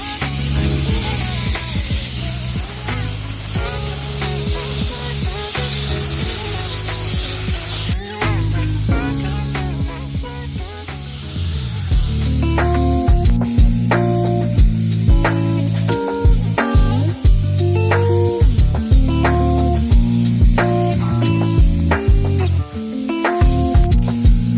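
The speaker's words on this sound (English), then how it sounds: "We're about to do a second coat of paint," Spray gun hiss comes in close, repeated bursts as a second coat of paint goes onto a Subaru Impreza, loud and steady with short gaps between passes.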